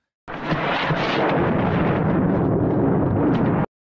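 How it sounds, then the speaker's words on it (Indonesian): A loud, sustained rumbling crash like a thunderclap, starting abruptly and roaring steadily for a few seconds before cutting off. "terdengar suara petir yang menandakan bahwa hari akan segera hujan"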